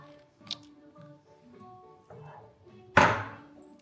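A single sharp knife chop lands on a cutting board while tempering ingredients are cut for saag, one loud close strike after quiet kitchen background with a few faint taps.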